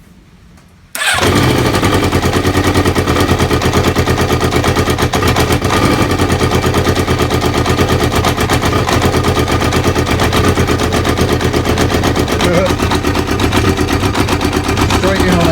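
A Kawasaki ZL600 Eliminator motorcycle engine fires up with no choke and immediately settles into a loud, close, slightly uneven rapid idle that runs steadily for the rest of the clip.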